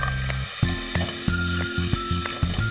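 A spoonful of chili powder hits a hot pan of juicy stir-fried food, giving a constant loud sizzle broken by regular scraping and clacking of a utensil stirring, with no talking.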